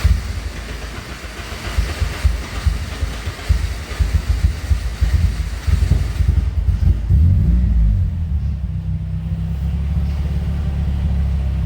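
The engine of a Nissan 240sx drift car, running on a new switch setup, cranks and fires with a loud, rough, irregular rumble, then settles into a steady low idle hum close by.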